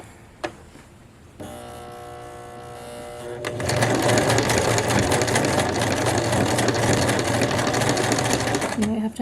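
A sewing machine stitches along a pants waistband, starting with a few scattered clicks, then settling into a loud, steady, fast mechanical whirr that runs continuously to the end.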